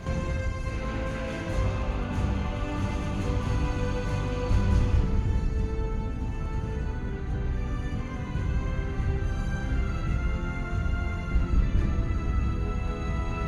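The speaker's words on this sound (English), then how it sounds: "Within the Founders Hall, we can hear what is the Blizzard theme." Blizzard theme music playing inside the Founders Hall of an Overwatch map: a dense, continuous orchestral piece with rich sustained harmonies, steady in loudness from start to finish.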